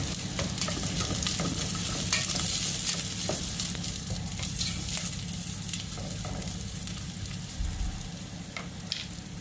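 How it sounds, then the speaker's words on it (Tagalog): Vegetables sauté in a hot pan for a Filipino home-cooked dish, giving a steady, dense sizzle with intermittent stirring scrapes throughout, close and fairly loud with no talking. "ating igigisa na ito at para may makain tayo"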